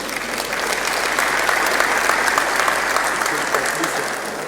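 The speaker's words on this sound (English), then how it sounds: "maybe we should clap for Dr. Ayo Ogunson" Steady applause from an audience at a governor's town hall meeting on security, a dense continuous clatter of clapping holding at an even level for several seconds.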